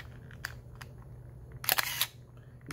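A film camera's shutter fires in a few sharp, separate clicks, then a longer, louder burst of mechanical clatter near the end. The sound is close, crisp and quiet, with no talking.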